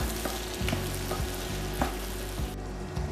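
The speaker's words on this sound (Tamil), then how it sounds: "இதை நல்லா கிளறி ஒரு 2-3 நிமிஷம் நல்லா வதக்கி விட்டுக்கலாம்." Sliced mushrooms sautéing in masala in a pan give a steady, close sizzle, with regular scraping strokes of a spoon as they are stirred.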